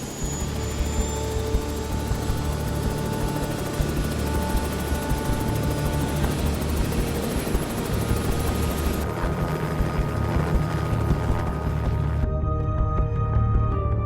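A helicopter preparing for takeoff gives a loud, continuous rotor and turbine roar with a steady high whine that shifts and then cuts partway through, with no voices over it.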